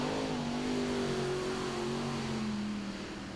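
A pulling tractor called Desperate Dan roars through a run at a 1994 Euro Series tractor pulling event at Walibi Flevo, Holland, its engine a loud, sustained high-revving drone with slowly sliding pitch that dips slightly at the end.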